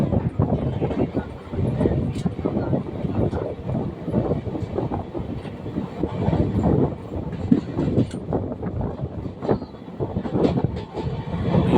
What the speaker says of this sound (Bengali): ট্রেন এখন বেরিয়ে যাচ্ছে